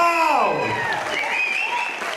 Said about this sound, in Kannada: ಇನ್ ಜೋರ್ ಖುಷಿಯಾದ್ರೆ ಜೋರ್ ಶಿಳ್ಳೆ ಚಪ್ಪಾಳೆ ಹಾಕಿ